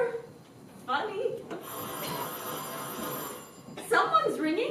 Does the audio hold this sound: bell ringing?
yes